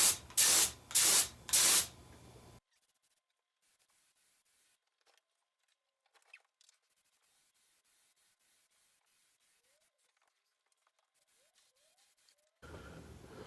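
Short loud hisses from an HVLP spray gun set to about 40 pressure, spraying paint onto a 2018 Ford F150 Raptor-style truck grille: three bursts at close range, then near silence, then another spray.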